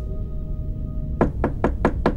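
Knocking on a door in a video game: five firm, evenly spaced knocks, close and loud, after a quiet stretch with a faint steady tone.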